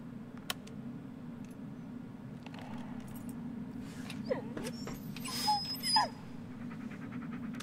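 Keys jangling in Blair Witch, a few faint metallic clinks and brief jingles over a steady low hum, near and quiet, with a dog whimpering in the background and no talk.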